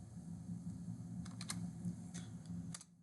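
Typing on a computer keyboard while entering a number into an Excel sheet comes as a few faint, quick key clicks over a low steady hum, then stops.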